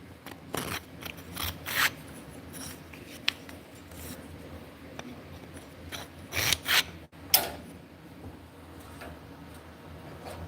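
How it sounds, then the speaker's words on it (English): A wooden mortise being cut out with hand tools, giving scattered scraping and rasping strokes with several sharp clicks and knocks, fairly close, with quiet pauses between bursts of work. "we're cutting out a mortise"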